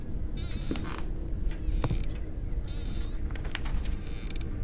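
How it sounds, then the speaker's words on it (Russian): Steady creaking of old wood in a horror game set in a creepy village, continuous over a dull ambient rumble with brighter groaning strains recurring throughout, no voices. "Что-то скрипит постоянно здесь."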